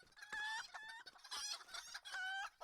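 Chickens in the fantasy online game Lord of the Rings Online cluck and squawk in several repeated bursts, close and loud, with no talk.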